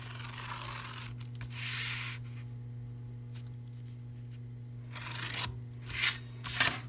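Scissors cut through cardboard along a marked line in several short, crisp snipping bursts with pauses between, over a faint steady hum in a quiet room.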